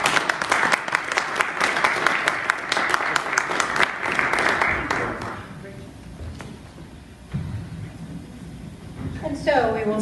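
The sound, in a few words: audience applause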